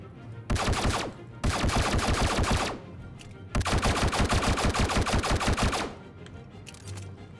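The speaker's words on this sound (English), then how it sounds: "I'm gonna make sure my gun fires" Automatic gun firing in the space game Star Citizen, two long sustained bursts of rapid, loud, evenly spaced shots separated by a short pause, with no talking.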